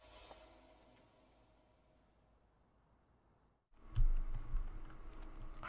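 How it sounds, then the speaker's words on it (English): Clacky computer keyboard typed quietly in a near-silent room, then a louder burst of rapid, close clicking keystrokes. "I also have a really clacky keyboard."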